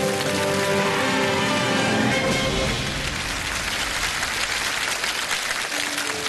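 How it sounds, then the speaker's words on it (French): Audience applause after a military commander's speech, a dense wash of clapping that starts full and loud, with a low rumble and a tonal hum underneath, then thins slightly while continuing steadily. "Applaudissements, s'il vous plaît"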